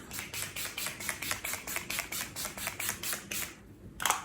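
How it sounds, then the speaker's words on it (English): A handheld face mist bottle is pumped in fast, steady bursts, around sixteen soft rhythmic spritzes close by, ending with one louder puff, with no talking. "I'm just gonna spray my face."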